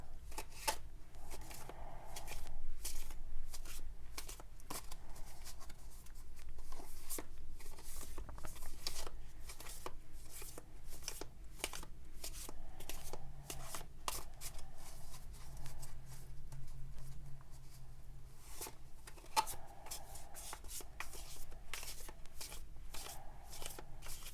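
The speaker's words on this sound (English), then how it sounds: "The cardstock on these is quite good, and they shuffle very nicely." Continuous quick riffling and flicking of tarot cards, a steady papery patter of shuffling for a long stretch, close but soft, no voices.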